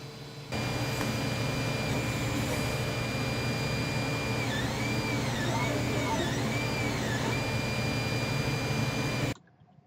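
A 3D printer printing a wrench for a Ridgid oscillating spindle sander gives a steady, loud mechanical whir with faint warbling motor tones rising and falling midway, running continuously before cutting off abruptly at the end.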